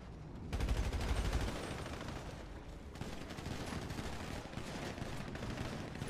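Sustained bursts of gunfire roll on continuously, heavy and somewhat distant, forming a dense crackling barrage with an early low thump near the start.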